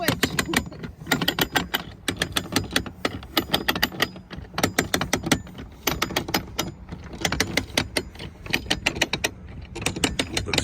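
A manual winch on a sailboat turns in repeated bursts of sharp ratcheting clicks, close and fairly loud, in quick rhythmic runs with brief pauses between them.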